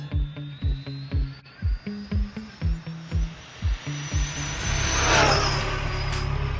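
A small electric RC car motor, stock motor with a ZTW 150A ESC, whines and revs in rapid bursts, then holds a loud, sustained full-throttle scream at 80% that rises in pitch.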